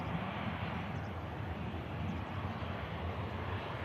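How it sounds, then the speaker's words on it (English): An EasyJet Airbus A320 airliner rolling out after landing at Manchester Airport, a steady broadband jet roar with wind noise, distant and constant throughout. "And just rolling out there. The EasyJet A320."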